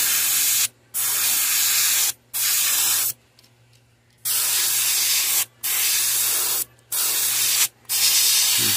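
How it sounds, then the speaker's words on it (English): An airbrush sprays paint onto a threadfin shad fishing lure in a series of steady hissing bursts separated by brief pauses, close and fairly loud, with a low background hum and no talking. "Just trying to spray in there on that."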